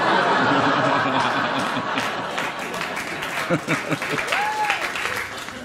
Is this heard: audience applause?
yes